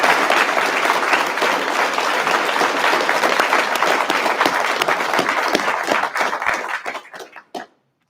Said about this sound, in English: So let's give your families a round of applause